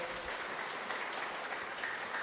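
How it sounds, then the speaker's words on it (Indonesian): Church congregation at a Simalungun-language GKPS service in Depok applauding, a steady wash of many hands clapping at moderate level, brief and without speech. "Tepuk tanganlah dulu kita, ya"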